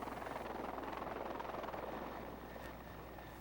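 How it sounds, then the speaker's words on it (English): Helicopter flying, with a steady rotor chop and engine drone, moderately loud and gradually fading slightly toward the end, no voices. "Helicopters like this one can carry up to 6 people."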